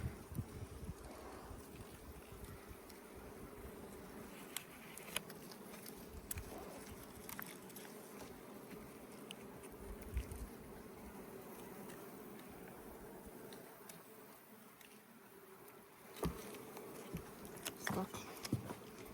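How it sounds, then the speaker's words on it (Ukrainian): Carniolan honey bees forage on goldenrod in the Rivne region, a continuous buzzing drone from many insects that holds steady throughout, with occasional louder close passes and some wind noise against the microphone. "Так працює карніка на золотарнику в Рівненській області."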